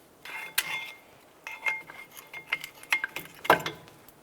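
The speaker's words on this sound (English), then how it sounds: "Let's go ahead and remove our brake pads." Metal brake pads being pried and slid out of a Cadillac DTS front brake caliper bracket, with a run of sharp clinks, scrapes and rattles close by, no talking.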